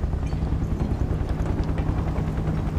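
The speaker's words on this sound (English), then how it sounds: "Helicopter's getting closer." A helicopter in Final Fantasy 7 Remake gives off a steady, loud, low rotor thrum that grows closer across the short stretch, with no talking over it.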